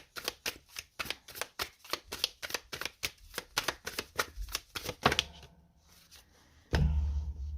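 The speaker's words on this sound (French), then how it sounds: "on est obligé de mettre une carte sur le roi de coupe" Tarot cards are riffled and shuffled in a rapid run of crisp, close flicks, then slide and settle more quietly, ending with a single soft thump as a card is laid down.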